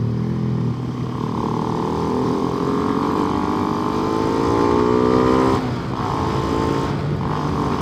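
A Suzuki Satria F150 (Sonic 150R) motorcycle engine revs up steadily, its pitch climbing in a long rising whine, then drops off briefly before revving again, loud and close.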